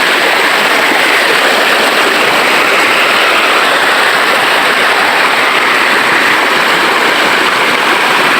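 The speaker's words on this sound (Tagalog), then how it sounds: "Medyo malakas din yung alon ngayon kasi gawa nga nung umulan." Swollen river after rain, its strong waves churning into a loud, constant broadband rush of water, close and unbroken, with no voices.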